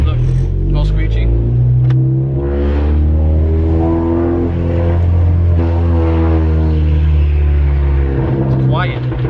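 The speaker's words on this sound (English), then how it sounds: "I can hear the exhaust in the car finally." A 10th gen Honda Accord's exhaust drones deep and steady inside the cabin while driving, rising slightly in pitch as it pulls, with someone talking over it throughout.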